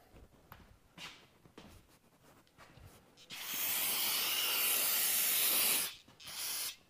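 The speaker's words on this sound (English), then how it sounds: "a little brake cleaner just to clean off the preservative they put on these" Brake cleaner sprays from an aerosol can onto new air brake parts for a Dexter 15k axle, a loud close hiss lasting about two and a half seconds, followed by a shorter burst after faint handling noises.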